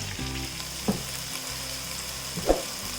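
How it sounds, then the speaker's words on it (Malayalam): Oil, reportedly used for a roast chicken, is poured into a pan of rice and sets off a steady, even sizzle, with two soft clinks from a spoon or pan along the way. "ഈ റൈസിൻ്റെ പാനിലേക്ക് ഒഴിച്ചു കൊടുക്കും"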